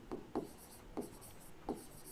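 Chalk or marker scraping across a board during a Class 11 biology lesson on kingdom Animalia, in four short scratchy strokes spaced about half a second apart, close and fairly quiet with no voice.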